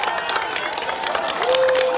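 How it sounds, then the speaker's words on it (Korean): A crowd cheers and claps at a prison release, where people welcome a politician freed under an Independence Day pardon. Mixed voices and applause run throughout, with a steady tone sounding near the end. "우레와 같은 박수와 목소리가 터지고 있습니다"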